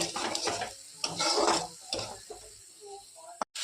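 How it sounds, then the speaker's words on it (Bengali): Green chili, onion paste and ginger being sautéed in a pan for a fish curry, with a spoon stirring and scraping against the pan and a soft sizzle beneath, close up, followed by a few quieter clinks. "এখন কাঁচামরিচ চিরা আর বাটা পেঁয়াজ আর আদা দিয়ে দিচ্ছি, দিয়ে একটু কষিয়ে নেব।"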